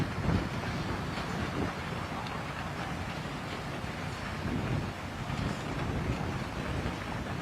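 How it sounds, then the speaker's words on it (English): Wind sweeps across a golf course, a continuous broadband rush and buffet against the microphone that holds steady with slight swells throughout, with no voices over it. "it's still pretty windy out here"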